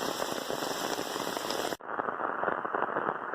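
Steady rain patters densely on a surface, a continuous close hiss with a brief dip partway through.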